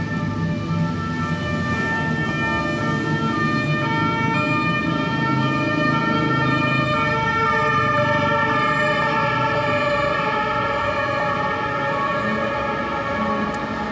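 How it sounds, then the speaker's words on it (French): An ambulance siren wails loudly and holds steady nearby for several seconds over city-centre traffic rumble, with no voices. "C'est une ambulance."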